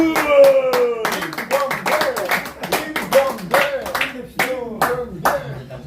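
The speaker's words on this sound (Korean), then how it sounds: "박수!" A group claps at an evening dinner gathering of a club, with brisk, close, rhythmic hand claps carrying over several seconds while voices talk over them.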